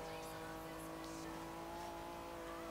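Engine of an older Acura NSX driven in Forza Horizon 3, a steady sustained tone with harmonic drone at constant speed, mid-distance and fairly quiet throughout.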